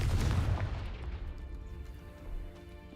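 A Confringo fire spell explosion from Hogwarts Legacy starts as a loud, close burst and then trails off into a long, fading rumble with faint crackles, with no voice.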